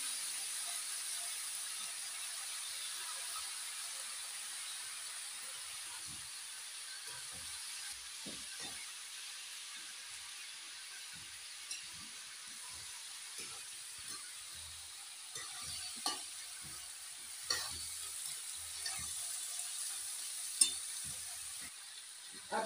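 Rajma beans tipped into potatoes with a hot tempering give a steady, moderate sizzle and hiss in the pan, with light clinks and stirring taps scattered through the latter half.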